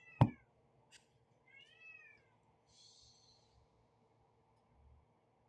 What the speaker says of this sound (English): then the fourth one has to go meow